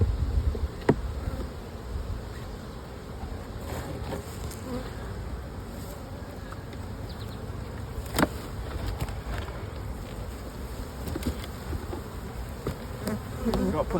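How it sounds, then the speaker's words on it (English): Honey bees buzzing inside a beehive during a single brood chamber inspection with partly drawn comb, a steady close drone filling the whole stretch with a few brief louder passes of nearby bees. "We've got plenty of bees up here"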